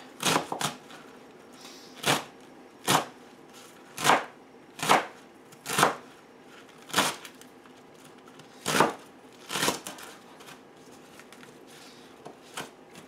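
A knife slices through a leek onto a cutting board in about a dozen crisp, separate chops at an uneven pace, each one close and distinct with quiet gaps between.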